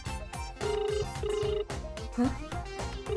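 A phone ringtone chimes repeatedly in a looping melodic pattern, moderately close, continuing without being answered.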